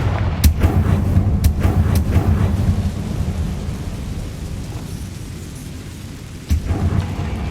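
Confringo fire spell in Hogwarts Legacy, a series of deep booming blasts with rumbling, crackling tails, the last one sharper and closer after a quieter stretch.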